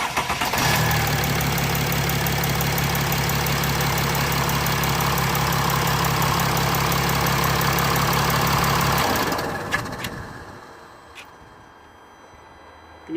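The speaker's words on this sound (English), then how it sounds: "I'm going to turn the ignition on and then I'll start the engine" A Mercedes ML320 CDI diesel engine with a turbo actuator fault idles loud and close with a steady, knocking diesel rumble for about nine seconds, then shuts off and falls quiet apart from faint clicks.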